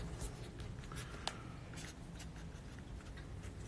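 A pen signs items on a table, making faint, scratchy strokes in short bursts against quiet room noise.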